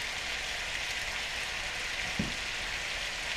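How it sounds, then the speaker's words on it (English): A pan sizzles steadily, food frying with a constant hiss and faint crackle, plus one soft knock partway through. "you can hear our pan sizzling away there, Louis."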